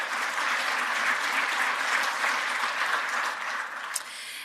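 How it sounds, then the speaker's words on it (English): An audience at a scholarship luncheon gives a sustained round of applause, a dense wash of many hands clapping at fairly close range, steady throughout with a slight dip near the end. "give them one more round of applause before they sit down"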